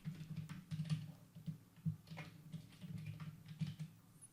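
Keys tapped on a computer keyboard while entering a password for a server setup, a quiet, steady run of close clicks with brief pauses and no talking.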